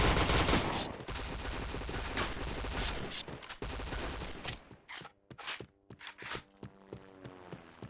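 Rapid bursts of video game shooter gunfire, loud and dense at first, then thinning into separate sharp shots with gaps and short rattling volleys toward the end.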